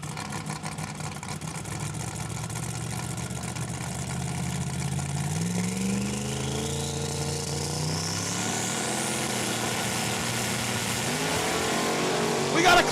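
A 1969 Pontiac GTO launching off the line at a drag race, with engine roar rising steadily in pitch as the car accelerates away, heard over crowd noise and an announcer talking.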